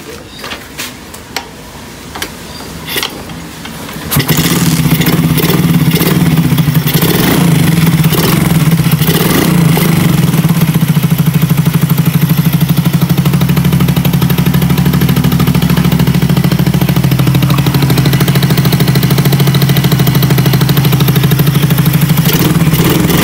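A Suzuki Smash motorcycle fitted with a 24mm carburetor and stock air box is started after a few clicks and clunks, then idles and revs loudly up close with a rough, buzzing engine note for about twenty seconds.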